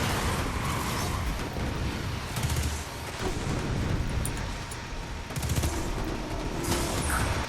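Gunfire in the Destiny 2 video game, with dense, continuous rapid shots and blasts over a loud, sustained battle din.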